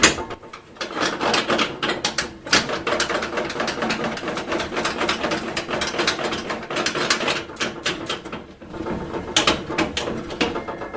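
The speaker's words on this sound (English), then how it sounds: "So first thing we're going to do is wind the blade well down." A saw bench's blade-height adjustment with a very fine thread is wound down by hand, giving a long, steady run of dense, close ratcheting clicks and mechanical rattles that barely pause for about eleven seconds.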